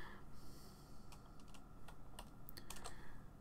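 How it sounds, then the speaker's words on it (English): Computer keyboard typing during a livestream, a quiet run of irregular key clicks with a few quick bursts of taps near the end over low background hum. "You're going to hear some lovely ASMR of the keyboards typing."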